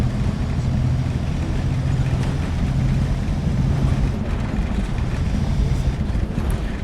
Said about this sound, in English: rattling that you get from a bus